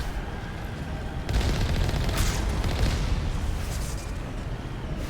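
Gunfight in Mass Effect: after a quieter opening second, heavy weapon fire erupts and stays dense and loud, a steady barrage of overlapping shots and booms rolling on to the end.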